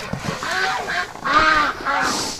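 Wintering ducks and geese honking in cold weather, a close cluster of several nasal, rising honks and quacks in quick succession, loud and overlapping with no one talking.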